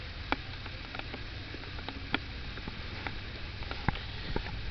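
Rain patters softly in a black raspberry garden in Western New York, a faint steady hiss with scattered light drips and taps.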